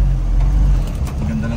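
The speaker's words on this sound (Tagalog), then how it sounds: "Tatawid tayo dito ngayon sa napaka-busy intersection na ito" Road traffic rumbles at a busy intersection, with motor vehicles passing close by while a person talks over the noise.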